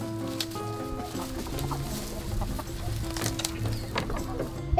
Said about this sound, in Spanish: tenemos en este momento 20 gallinas